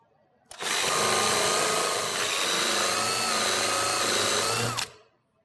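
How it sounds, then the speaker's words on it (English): A Forstner bit countersinks pilot holes in a wooden barn door, a steady loud whirring drill run of about four seconds that starts and stops abruptly, with no talk. "we'll use our Forstner bit to countersink about 7/16 to a ½ inch"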